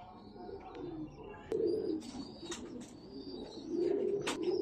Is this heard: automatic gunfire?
no